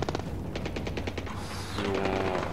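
Unsuppressed automatic gunfire from the stealth game Splinter Cell: Blacklist, a rapid burst of about a dozen sharp shots in steady rhythm, then denser layered shooting and a faint tone, loud and close.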